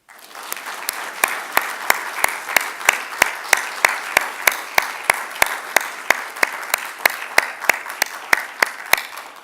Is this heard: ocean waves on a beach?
no